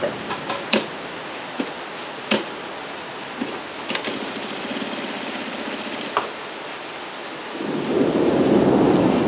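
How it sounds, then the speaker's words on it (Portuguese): Heavy rain falls outside with thunder, sounding as scattered sharp cracks over a steady wash, before a louder, denser rush of rain builds toward the end. "tá uma chuva aqui, uma chuva que vocês não têm noção"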